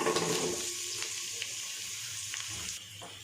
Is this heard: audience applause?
no